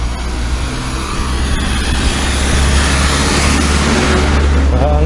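A car passes on a narrow country lane through a village, its engine noise loud and close, steady and swelling slightly toward the end.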